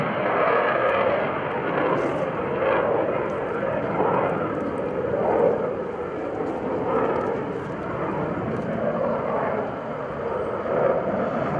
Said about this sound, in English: Look at the controllability and the agility of the FA-18 Hornet.